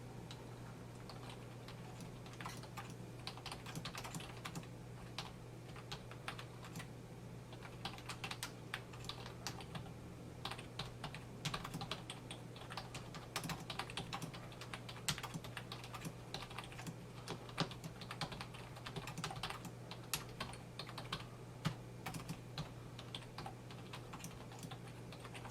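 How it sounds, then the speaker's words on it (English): Steady, fast typing on a wireless rechargeable ergonomic keyboard, a long unbroken run of light, close key clicks over a low steady hum. "And now we'll do a typing test."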